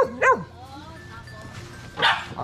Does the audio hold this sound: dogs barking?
yes